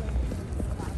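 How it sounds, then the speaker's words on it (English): Horse hooves clip-clop along a New York City park path, close and steady under a noisy outdoor background with a voice talking over them. "They've got horses and shit for people who want to ride them."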